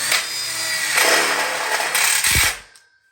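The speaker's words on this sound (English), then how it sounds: "And now we'll go ahead and put in our screws here." A power screwdriver drives screws into the frame of an outdoor kitchen backsplash, a steady whirring burst for about two and a half seconds that ends abruptly, heard close with no talk.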